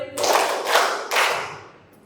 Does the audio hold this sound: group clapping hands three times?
yes